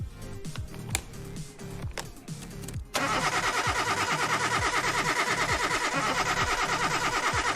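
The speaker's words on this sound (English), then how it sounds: "If you can hear me above the revving engine" Car engine in the Car Mechanic Simulator 2021 video game, first cranking in a rhythmic series of starter pulses, then catching and running at a loud steady rev with a fast pulsing beat.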